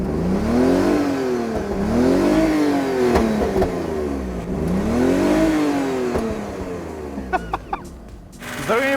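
A BMW E46 with a modified exhaust and gravel poured into its engine revs up and down three times, rising and falling loudly up close, followed by a few sharp clattering knocks.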